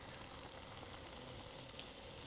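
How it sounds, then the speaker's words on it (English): Churros fry in boiling hot oil with a steady, dense crackling sizzle, close and fairly quiet, continuous throughout with tiny pops and no talking. "the oil is boiling hot"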